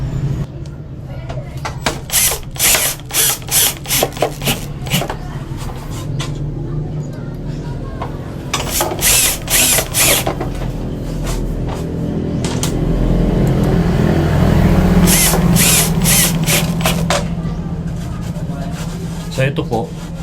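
Power drill driving black Hardieflex screws with built-in scraper heads into a board, in repeated short whirring bursts with pauses between, followed by a longer steady run of drilling; fairly close and loud.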